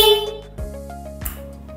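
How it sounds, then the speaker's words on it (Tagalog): A stock vehicle horn wired to a switch gives short, close honks, with a steady tonal blare that cuts off and restarts over about two seconds. "Busina."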